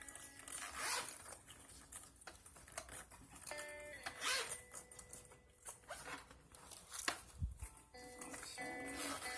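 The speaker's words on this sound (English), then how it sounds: "Let me unzip everybody." Quiet, close zippers are pulled open several times in short rasping bursts, mixed with soft handling rustles and clicks.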